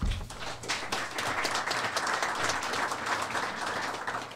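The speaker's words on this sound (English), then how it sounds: "give a big round of applause to this great team for all the work that they did" Applause from a press-conference audience celebrating a dental hygiene degree program team, a dense burst of clapping from many people that holds steady for several seconds.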